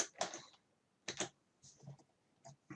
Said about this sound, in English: Type that into the command window here.